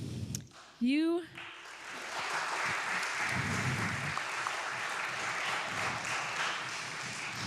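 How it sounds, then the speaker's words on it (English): A Unitarian Universalist church congregation applauds its new members, a soft, steady wash of clapping that rises after a brief voice at the start and continues evenly, moderately distant. "I'm into all the clapping"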